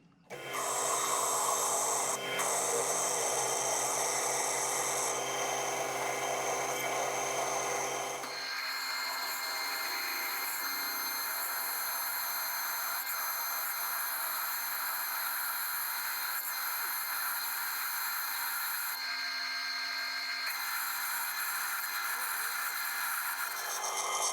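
Loud, steady mechanical grinding and whirring of a 9mm drill bit boring into metal on a lathe, continuous throughout, with the pitch and texture shifting partway as the cut deepens.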